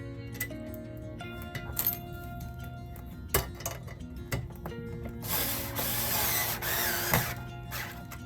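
Metal parts clink and rattle as a nut and spacer are fitted onto an Amazon Basics articulating TV mount. Close ratcheting clicks and a stretch of harsher scraping follow one another with no talk.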